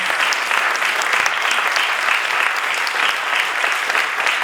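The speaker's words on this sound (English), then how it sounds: "let's give Dr. Morenkova a huge round of applause" Event audience at a Parkinson's Orange County gathering breaks into a loud, sustained round of applause, steady and unbroken for the full length with no talking.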